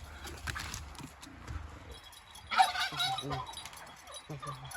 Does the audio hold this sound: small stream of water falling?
no